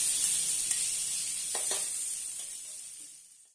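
Ghee sizzling in a pan, a soft steady hiss with a few faint clinks, fading away toward the end; no talk.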